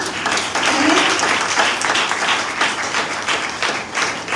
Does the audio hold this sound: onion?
no